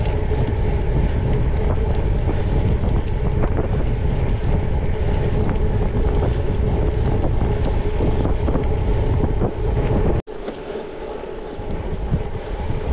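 Wind buffeting a microphone on a gravel bike ride along the north shore of Île de Ré, a loud continuous rushing roar that cuts out abruptly near the end and returns more softly, with no speech.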